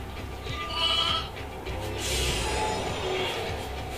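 A stock sheep bleat plays in the Final Fantasy XIII-2 video game: a couple of wavering, nasal bleats, moderately loud over a low game background.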